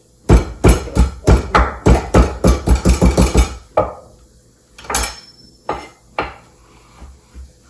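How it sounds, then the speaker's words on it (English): A small pot of mashed ginger being added to a cooking pot for sweet dal, heard as a rapid run of loud, close knocks and taps of utensil on metal, then a few slower clanks, with no talk. "I'm going to put in this little pot of ginger that I mashed."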